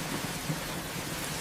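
Steady rain with low rumbling thunder underneath, a continuous wash of rainfall with no talking.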